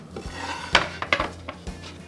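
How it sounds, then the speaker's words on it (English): A serrated knife saws through smoked country-style pork ribs, giving irregular clacks and scrapes against a board and dish, with several sharp knocks spaced through a steady rasp. "What I'm gonna do is cut one of these up for you"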